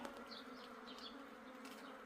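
A swarm of native Korean honeybees hums steadily and close, a dense continuous buzz with individual bees whining past, captured while the colony settles during swarming.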